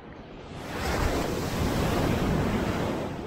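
Ocean surf rolls onto an Aceh beach under cloudy skies, a loud continuous wash of breaking waves that swells and eases slightly, mixed with gusty wind buffeting the microphone.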